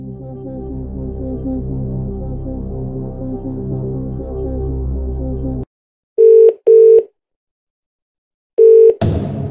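In the Who Wants to Be a Millionaire DVD game, a phone-a-friend call begins under a tense musical sting, then falls silent before repeated loud electronic ringing tones, two close together and a third after a pause.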